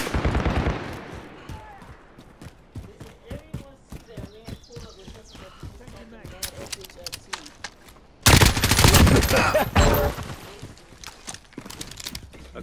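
Rapid gunfire crackles in bursts in Call of Duty: Modern Warfare with people talking over it, then a loud sustained roar of explosions near the end.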